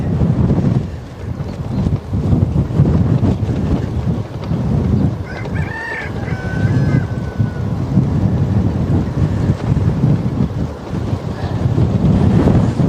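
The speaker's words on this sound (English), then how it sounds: "It's a very windy day today." Steady gusting wind buffets the microphone throughout with a low, rumbling roar, and a rooster crows faintly in the distance partway through.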